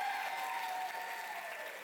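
Applause from the audience at the 2025 State of South Fulton address, a soft, distant wash of many hands clapping that holds steady and fades slightly toward the end, with no speech over it.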